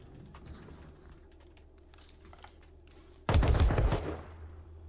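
Video game gunfire: a sudden loud burst of rapid shots erupts after quiet clicking and lasts close to a second before fading into a lingering rumble.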